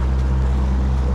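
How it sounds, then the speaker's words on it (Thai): An airboat engine drones on the water nearby, a loud, steady, low rumbling roar with no breaks. "มันเสียงเรือเจ้าล่ะที่แท้เป็นเรือแอร์โบ๊ทของเขา"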